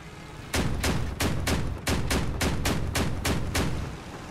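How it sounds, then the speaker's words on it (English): Heavy gunfire in the vehicle-combat game Crossout: a steady run of about ten evenly spaced, loud bursts, each a broadband crack with a short tail, over a constant low rumble and no voices. "Somebody's up here shooting"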